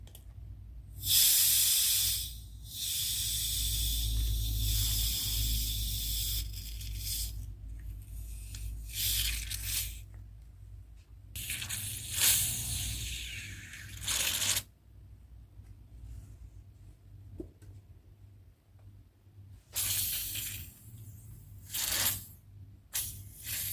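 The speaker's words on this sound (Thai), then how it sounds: "เราค่อยๆคคายฝาออกนะคะ ให้แก๊สมันออกมาทีละนิดนะ" Gas hisses out of a bottle of homemade tamarind tepache as the cap is eased open slowly, in repeated bursts of loud spraying hiss separated by pauses, close up with no talking.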